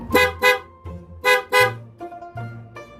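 A loud aftermarket motorcycle horn honks several times in short bursts, two quick blasts, then two more, close and piercing over a running engine.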